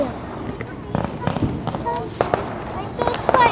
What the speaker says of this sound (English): Like that firework.